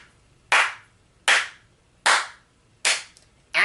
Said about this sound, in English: I'm going to give this movie another round of applause